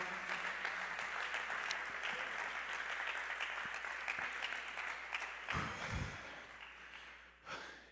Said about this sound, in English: Can you clap your hands to the Lord right now?